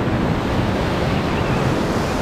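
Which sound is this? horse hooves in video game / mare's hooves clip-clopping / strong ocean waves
strong ocean waves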